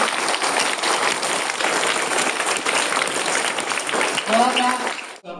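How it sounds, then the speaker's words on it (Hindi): Audience applause for Pankaj Gupta at an NGO child abuse awareness event, a sustained burst of crowd clapping lasting about five seconds before cutting off abruptly, with faint voices mixed in near the end. "तो एक बार जोरदार तालियां हम पंकज गुप्ता जी के लिए बजाएंगे"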